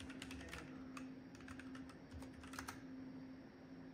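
Rapid clicking of keys on a computer keyboard, irregular taps close by, with a faint steady hum underneath and no talking.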